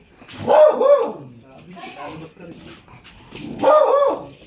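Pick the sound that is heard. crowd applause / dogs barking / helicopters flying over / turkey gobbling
dogs barking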